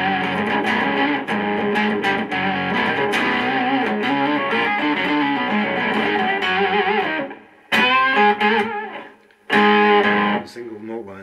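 An electric guitar plays through a vintage Pearl OC-07 octave pedal with all settings engaged, giving thick, buzzy octave-doubled tones. Sustained notes and short phrases are separated by brief gaps.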